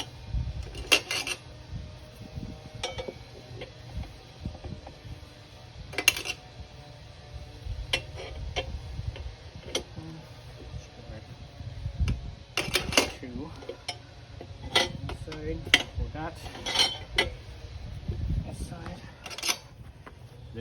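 Tire levers work a Continental Road Attack 3 tire onto a Zero SR motorcycle rim, with metallic clinks and scraping clatters coming in scattered bursts over a low background rumble.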